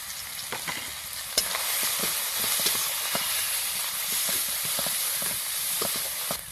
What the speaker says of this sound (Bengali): জল দিয়ে মশলাটা ভালো করে কষিয়ে নেব।